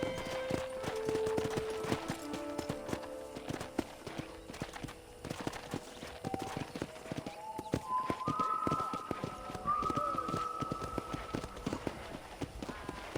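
Horse hooves clip-clop steadily during a ride through a property in Red Dead Redemption Remastered, with game music and occasional character speech layered over the rhythmic footfalls.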